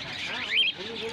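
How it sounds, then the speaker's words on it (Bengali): Small chirps of budgerigars at a busy bird market, faint and tangled with other birds and crowd murmur, with one brighter burst of twittering midway. "দেখতে পাচ্ছেন সুন্দর সুন্দর বদ্রি পাখি"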